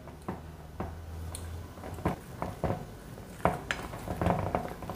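Soft squishing and clinking of a utensil mashing warm potatoes against a bowl, in irregular repeated strokes, close by, with no talking.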